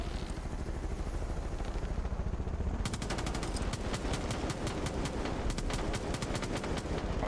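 Video game gunfire starts partway through as a sharp, rapid train of regular shots that continues steadily over constant background noise.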